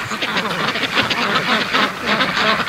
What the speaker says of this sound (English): there's a Muscovy looking at me